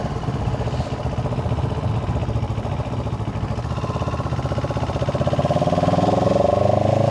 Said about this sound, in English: Engine is nice and smooth. And the exhaust sounds lekker.